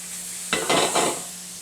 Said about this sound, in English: Next, we're going to add a pat of butter and our onions. And we'll saute until caramelized.